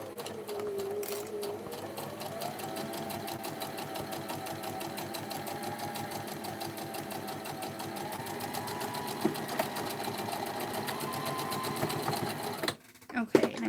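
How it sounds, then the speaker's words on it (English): Sewing machine stitching a vintage purse, a steady fast mechanical whir running close and even throughout, briefly stopping with a clunk near the end. "I went forward and backwards to secure them stitches"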